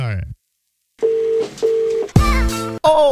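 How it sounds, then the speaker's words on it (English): Telephone dialing tones ring out as a call is placed, a few steady electronic beeps in a row, followed by a brighter burst of ringing tones, loud and up close after a brief silence. "let's get him on the phone right now"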